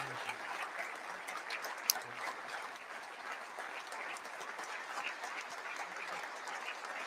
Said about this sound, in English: Oh, it's a clap going again.